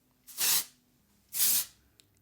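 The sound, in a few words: ORIBE dry texturizing hair spray being sprayed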